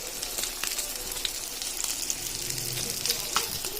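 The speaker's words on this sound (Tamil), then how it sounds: "பாப்லெட் மீனும் ரகு மீன் ஃப்ரை பண்ணிக்கிறேன்" Pomfret and rohu fish frying in hot oil give a steady, fairly loud sizzle with light crackles and occasional stirring sounds.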